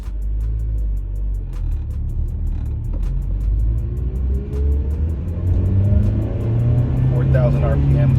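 A Honda Civic engine idles and then revs up toward 4,000 RPM, a close, steady rumble whose pitch climbs gradually, with a rhythmic ticking heard over it.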